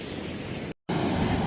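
Ocean surf at La Push Beach, Washington, rolls as a steady broad wash of noise, cut briefly by a short silent gap partway through.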